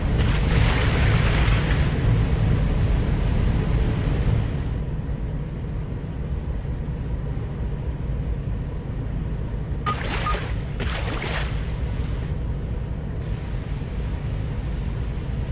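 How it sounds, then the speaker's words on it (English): Ocean waves wash and churn around a fishing boat in the game Fishing: North Atlantic, a steady broad surge of water and wind that stays fairly loud and close, with brief splashes partway through and no talk. "Looks like the waves are a little bit bigger over here, which is nice."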